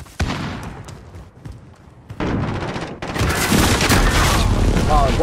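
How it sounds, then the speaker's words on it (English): Heavy booming blasts of a precision airstrike in a Call of Duty–style shooter, several loud dense explosions building over the last seconds after quieter gunfire, with a voice speaking early on. "Friendly precision airstrike on the way."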